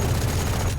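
The Odin machine gun firing in a video game, a dense, continuous roar of rapid gunfire with heavy low-end booms, loud and close throughout.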